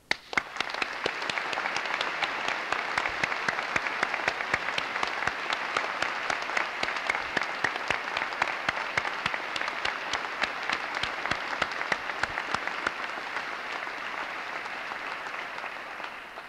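Sustained applause from a large crowd at a 2003 University of Edinburgh graduation ceremony, steady dense clapping that carries on without pause and tapers slightly toward the end.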